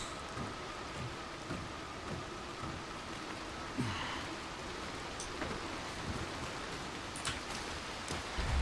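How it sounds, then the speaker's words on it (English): Steady rain falls in the Dying Light The Beast video game, a dense continuous hiss with occasional louder splashes and thuds mixed in. "Is it because of the rain?"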